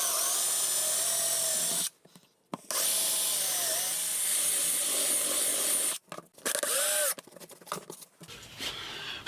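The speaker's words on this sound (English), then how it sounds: "I might need to put some screws in on the corners of this just to hold this metal down." A power drill driving screws into a metal jig for an acoustic guitar build, loud whining bursts of several seconds each, separated by short pauses and quieter handling noise.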